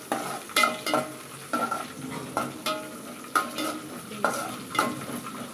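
Green chillies frying in hot oil in a home kitchen pan, a quiet steady sizzle broken by repeated stirring scrapes and utensil clinks at a fairly even rhythm.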